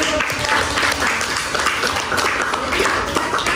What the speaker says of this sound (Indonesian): Iya, berikan tepuk tangan dulu.